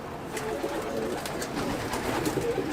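Soft pigeon cooing and fluttering in the background, fairly faint and steady, with no voices.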